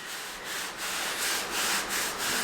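Steady abrasive rubbing of sandpaper across a metal car body panel, continuous with rhythmic strokes, close and fairly loud.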